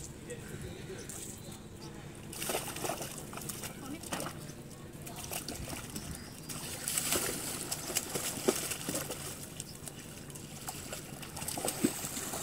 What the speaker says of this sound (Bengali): ফাইনালি ভোদর চলে এসছে গঙ্গার ঘাটে, ভোদর এখন সাঁতার কাটবে।